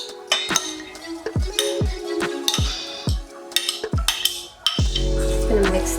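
A utensil clinks repeatedly against a bowl while garlic and carrots are mixed into ground chicken for lumpia, sharp close knocks in an uneven rhythm, ending with a longer scraping stir.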